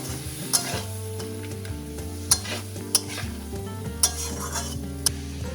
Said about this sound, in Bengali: গ্যাস আমি একদম কিন্তু সিমে দিয়ে আস্তে আস্তে নাড়াচ্ছি যেন ক্যাপসিকামটা খুব একটা গলে না যায়